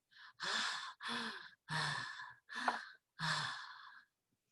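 Five heavy, breathy pants in a slow, uneven rhythm, each a rasping exhale separated by brief pauses, close and fairly quiet.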